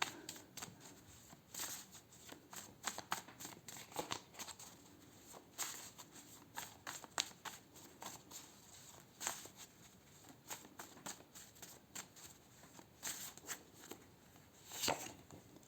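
Tarot cards being shuffled by hand close up, a quiet, continuous run of soft riffling and slapping pulses at an uneven rhythm, with no talking.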